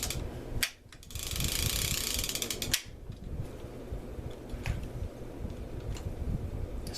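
A serviced Daiwa Great Lakes 47LC line-counter level-wind baitcasting reel spins, giving a steady mechanical whirring ratchet and clicking of gears, briefly louder then settling into a fainter ticking spin.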